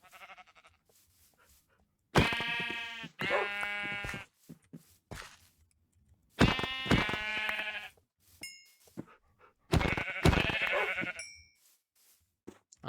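Sheep in the Minecraft video game bleat in three clear bursts, each a pair of nasal, wavering baas close up and fairly loud, separated by quiet gaps with faint small clicks.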